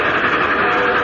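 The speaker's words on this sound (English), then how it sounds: "More powerful than a locomotive." A locomotive sound effect from the intro of a Superman radio show makes a loud, steady rushing roar that runs without a break.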